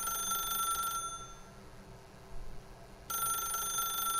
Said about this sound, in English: I could pick up the phone. I could. You just let it ring out, you know?